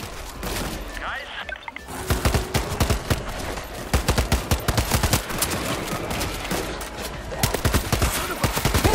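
Dense gunfire from the video game World War Z Aftermath rattles in rapid, overlapping bursts, loud and nearly continuous after a brief quieter opening.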